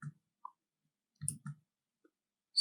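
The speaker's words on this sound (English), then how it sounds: "So I am placing my mouse over each tile and pressing Ctrl 2 on the keyboard." Keyboard and mouse clicks as Ctrl 2 is pressed over tiles while building an object repository in a test automation tool, a few sparse, close, dry taps with silence between.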